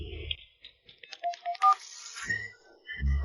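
A cellphone goes off with short bright electronic tones in a quick patterned burst, fairly close, surrounded by scattered clicks and room noise.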